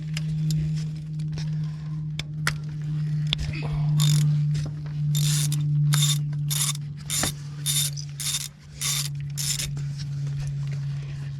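Ratchet with a 10mm socket loosening an ignition coil bolt on a 2011 Kia Soul, a run of rapid, evenly spaced clicking pawl strokes over a steady engine-bay hum, close and clear.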